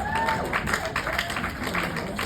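An audience applauds, a dense patter of clapping from a crowd at moderate loudness, with a voice briefly audible over it.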